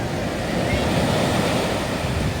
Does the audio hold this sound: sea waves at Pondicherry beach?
yes